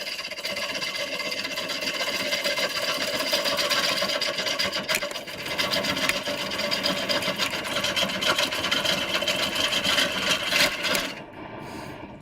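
A woodturning lathe cuts into a large wooden bowl, throwing off shavings, with a steady, dense scraping rasp that runs continuously for about eleven seconds before easing off near the end.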